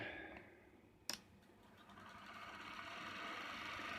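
Small motor spinning a centrifugal fan turbine fitted with new bearings starts up after a click, settling into a quiet, steady whir that builds slightly and holds close by.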